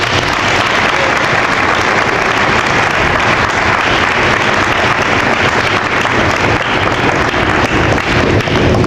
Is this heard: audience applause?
yes